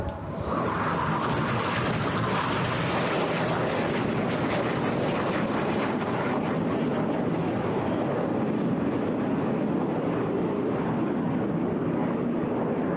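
Red Arrows jets roar past during a formation flying display at the Eastbourne Airshow, a loud sustained rushing engine sound that swells and holds for several seconds with no clear speech.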